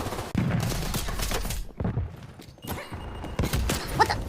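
Rapid hipfire bursts in Call of Duty, a loud rattling string of shots that runs for about a second and a half, breaks off briefly, then resumes as choppier clusters of rounds and thuds.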